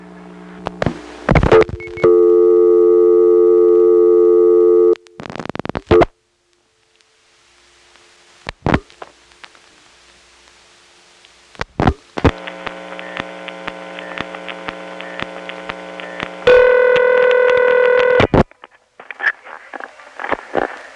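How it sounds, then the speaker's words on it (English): A 1977 coin telephone dials 611, with sustained steady tones, sharp clicks and switching clunks. Later comes a loud layered ringback tone, then further clicks, all close and clear with no talk. "let's make a token phone call to a number that begins with 6"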